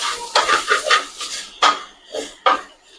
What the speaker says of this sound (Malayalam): അത്യാവശ്യം കരിവേപ്പിലയും കൂടി ഇട്ട് കൊടുക്കുവാണ്.